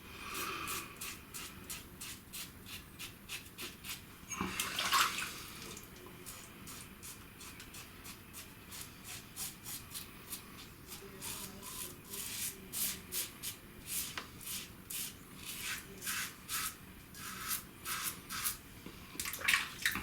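A straight razor with a 3.5 inch, 81 gram handle scrapes over facial stubble in quick repeated crisp rasping strokes, close and clear, rhythmic bursts continuing for about twenty seconds with no talking.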